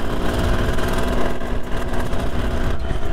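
A 1973 Kawasaki S2A 350 two-stroke triple runs close and loud while being ridden through the gears, a buzzy, rapid engine drone with a continuous rasping pulse.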